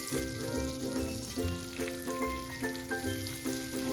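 Butter with oregano sizzles in a pan as a constant crackling fry, with faint tonal notes pulsing in the background and no talking.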